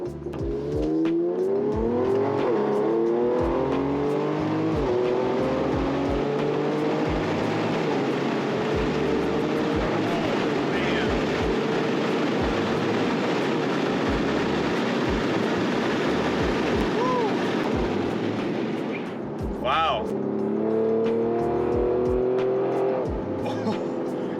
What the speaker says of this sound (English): engine noise is better with the windows down, but you can hear it really well with the windows up